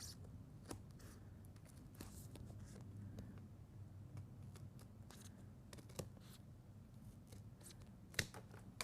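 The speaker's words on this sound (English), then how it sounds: "we can fussy cut it across that kind of score line." Scissors snip paper along a score line in a series of sharp, scattered cuts at close range, with soft paper rustling and handling between them and no talking.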